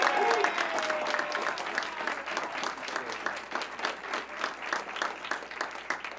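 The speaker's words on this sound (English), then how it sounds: "Would y'all give him a round of applause?" A crowd applauds the new mayor at a Black History Month event, steady dense clapping from a sizable audience throughout, with faint voices underneath.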